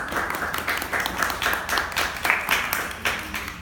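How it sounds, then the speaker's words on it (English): A small audience at a poetry reading claps in a short, scattered burst that stays moderately loud and uneven for a few seconds; no voices are heard over it. "Delayed applause, always great."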